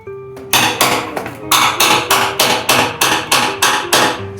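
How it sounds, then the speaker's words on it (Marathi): A metal cake tin holding rava cake batter is rapped repeatedly on a hard surface to knock out air bubbles. About ten loud, close, sharp metallic knocks come in a steady rhythm, each ringing briefly, with no talking. "टॅप करून घेऊया म्हणजे आतमध्ये जर बबल्स वगैरे असतील तर ते निघून जातील"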